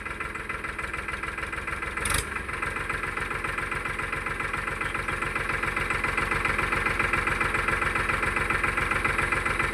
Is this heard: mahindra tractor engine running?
yes